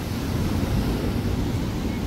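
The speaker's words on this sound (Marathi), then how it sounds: "लाटा एकदम बघा, समुद्र फुल खवळलेला आहे" Rough sea waves crash and churn at a beach at sunset, a loud, continuous rumbling surf mixed with gusting wind buffeting the microphone.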